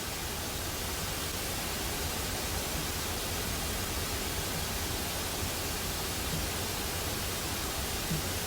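Steady pink noise test signal used for balancing mix levels, a dense broadband hiss that stays constant and fairly loud throughout, with no voices.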